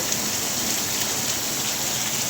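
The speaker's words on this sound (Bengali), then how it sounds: "প্রচুর বৃষ্টি, গলগল করে বৃষ্টি হতে আছে, হতে আছে।" Heavy rain pours steadily during a strong storm, a dense, constant hiss with no pauses, close and loud, with no voices.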